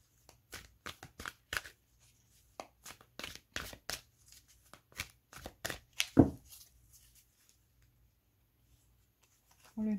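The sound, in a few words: shuffling cards to draw one for a reading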